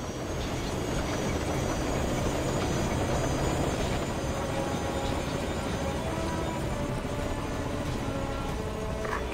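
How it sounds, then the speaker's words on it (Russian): Steady, loud rotor and engine roar from a Mi-28 attack helicopter taking off in the video game Ghost Recon Advanced Warfighter 2, holding a constant droning wash without pauses or voices. "Он на борту Ми-28, взлетает."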